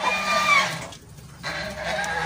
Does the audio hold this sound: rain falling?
no